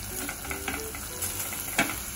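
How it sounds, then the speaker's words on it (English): Soft tomatoes fry in ghee and are stirred in a pan, giving a steady close sizzle with light scraping from the stirring and one brief, sharper crackle, with no talking. "Give it a stir."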